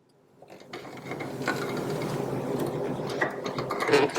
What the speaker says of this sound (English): many times you'll hear it referred to as chaining off